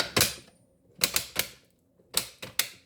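A Badge It badge-making machine presses a badge, giving sharp mechanical clacks in two clusters of three and two, loud and close against a quiet room with no talk.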